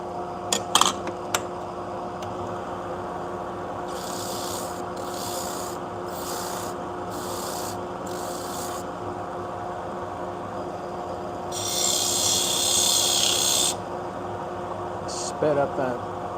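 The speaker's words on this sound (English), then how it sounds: "I filled burr all the way across the blade" A pet grooming shear blade is sharpened, giving repeated bursts of hissing, rasping abrasion against the steel, several short strokes and then one longer pass, over a steady machine hum with a few light clicks.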